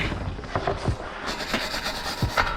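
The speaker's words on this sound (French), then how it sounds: "la brosse métallicos" A wire brush scrubs across a weld on a monster truck wheel in short rasping strokes, several passes with brief pauses in between, close and fairly loud with no talk.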